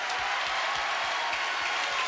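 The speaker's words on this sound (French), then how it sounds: "je voudrais, s'il vous plaît, que vous applaudissiez au moins étant les 3 camarades" Studio audience applauding on a French television variety show, a steady, dense wash of clapping held at an even level throughout, fairly near and continuous.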